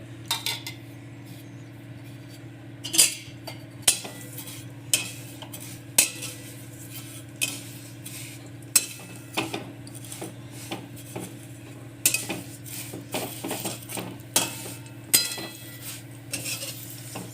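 Vermicelli sev roasting in ghee in a pan for a Gujarati sweet, with a spoon scraping and clinking against the metal at an irregular, steady pace over a constant low hum, close by and with no talk.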